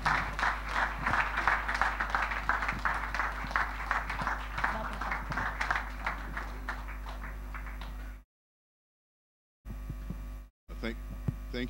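A church congregation at a parish gathering claps for about eight seconds over a constant low mains hum. The applause then cuts off abruptly into silence, with brief fragments of sound after.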